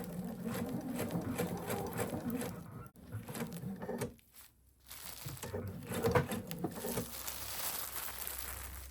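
A sewing machine stitches minky and fleece fabric in quick, rattling bursts at close range. It stops briefly partway through, as if pausing with the needle down to pivot at a corner, then resumes its steady whir.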